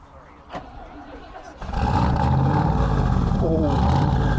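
A TVR M series car fitted with a Rover V8 engine starts after a few clicks and settles into a deep, loud, rumbling idle with slight revs, while people talk nearby.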